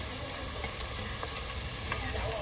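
Vietnamese fish cakes (chả cá) fry in oil in a pan, a continuous close sizzle broken by small pops and the scrape of turning, with no talk.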